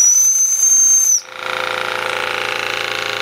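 A restored Jensen 5 toy steam engine sounds a shrill, steady whistle for about a second. It cuts off abruptly and gives way to the engine's rapid, even mechanical chuffing and whirring, close and loud with no voices.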